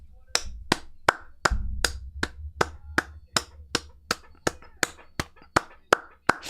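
Arena crowd clapping in steady unison for wrestler Dante Chen's entrance at a WWE Evolve show: about sixteen sharp, evenly spaced claps at a brisk, regular beat.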